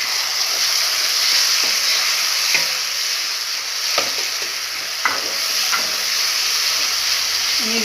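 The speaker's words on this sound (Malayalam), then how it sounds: "സവാള 3/4 ഭാഗം ഫ്രൈ ആയി വന്നിട്ടുണ്ട്." Onions fry in a pan for Kerala-style kappa masala, a steady loud close sizzle with occasional stirring scrapes and clinks throughout.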